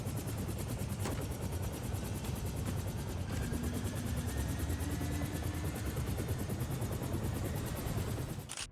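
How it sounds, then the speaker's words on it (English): A helicopter lifts off a rooftop helipad in the 007 First Light video game, its rotor chopping in a loud, steady whir with a dense engine roar throughout. "In true Bond fashion, they make it to the chopper seconds before it lifts off"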